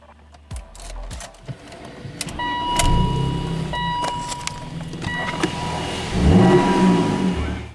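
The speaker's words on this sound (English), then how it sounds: "I'm just gonna go ahead and turn on the vehicle so you guys can see that it does start" A BMW E39 is cranked after an engine wash, with starter whir, clicks and relay noises, then the engine catching and settling into a steady idle close by.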